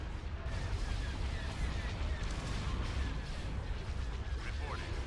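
Laser cannons fire in rapid, overlapping bursts during a Star Wars strategy game battle, a dense crackling barrage of blasts and booms that continues without a break.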